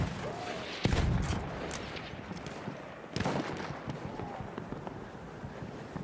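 Pistol fire in the Battlefield 1 video game, two sharp loud shots a couple of seconds apart, each trailing into booming echo over a steady noisy battle backdrop.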